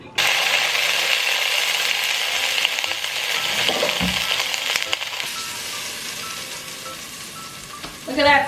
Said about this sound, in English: Look at that sear!